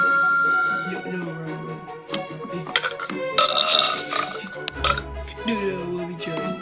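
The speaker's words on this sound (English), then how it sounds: "It sounds like someone's burping." A toy sound machine plays a long, loud, croaking burp with gurgling, grunting tones, mixed with children talking over and around it.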